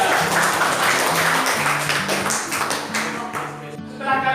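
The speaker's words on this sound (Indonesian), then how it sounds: "Tepuk tangan untuk kelompok 3." A classroom group claps steadily for a few seconds, a dense patter of hands over a low tonal hum in the room.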